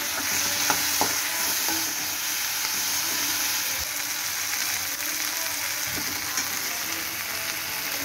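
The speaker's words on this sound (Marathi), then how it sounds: "त्यामध्ये आता मी सिमला मिरची" Capsicum frying in a pan with browned onion on a lowered gas flame, a steady close sizzle with intermittent scraping stirs throughout, no talking.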